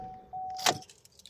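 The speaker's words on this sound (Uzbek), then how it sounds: "Kalt sug'uramiz." A car key comes out of a Chevrolet Cobalt's ignition: a steady electronic reminder chime sounds, then a short metallic click and jingle of keys, quiet and close, followed by faint rustling.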